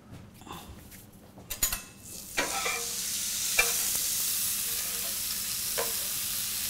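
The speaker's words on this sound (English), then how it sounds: "And then I'm going to go ahead and put it on the skillet." A fish fillet hits a hot skillet on medium heat and breaks into a steady, close sizzle after a few clanks and scrapes, frying continuously to the end.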